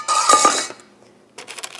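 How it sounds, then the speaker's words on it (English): Roasted beets and sweet potatoes stirred with a utensil onto a tray of vegetables, a burst of clinking scrapes up close, a pause, then lighter scraping and tapping. "And then we're going to stir these into the things we already have on the tray."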